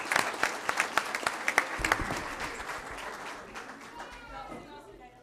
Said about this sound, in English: One more round of applause as they exit the floor.